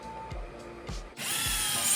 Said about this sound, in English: so here I'm drilling the holes, and I did like sandwich them so I could drill the holes into both at the same time